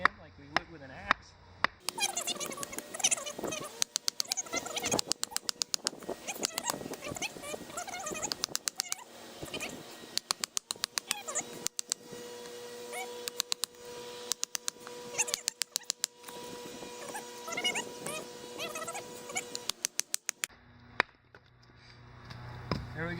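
A PLSK1 bushcraft knife chopping into hard wood, beaten in like an axe: quiet, irregular dull knocks in quick runs, with outdoor background noise.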